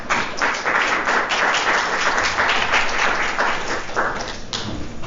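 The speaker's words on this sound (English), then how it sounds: "So let's give our panelists a round of applause." Audience applause for panelists at a Black Studies anniversary event, a full even burst of hand clapping that holds strong and then begins to thin toward the end, with no talk over it.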